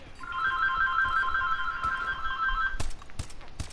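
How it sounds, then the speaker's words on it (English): Phone ringtone from an incoming call: a steady melodic electronic tone rings for nearly three seconds before cutting off, followed by a few sharp clicks and knocks, alone and close. "Yay, phone call right at the end of my recording."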